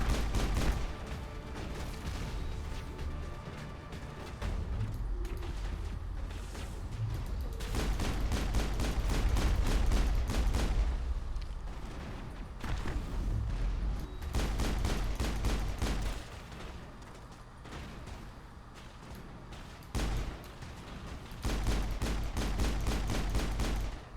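Rapid gunfire in the Mass Effect video game, with bursts of shots crackling almost continuously and a low rumble underneath, loud and close, briefly thinning between volleys, with no voices.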